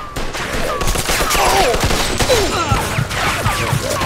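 Rapid bursts of gunfire from the Mafia 2 video game, dense and continuous shots crackling loudly throughout, with layered game sound effects around them.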